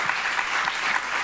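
Audience applause at a French civic event on the arts and early childhood, a short, dense burst of steady clapping from a crowd in a hall.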